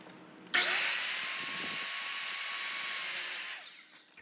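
A power saw plunge-cuts into wooden door trim, a loud, steady high-pitched whine that starts abruptly, holds for about three seconds, then winds down, heard alone.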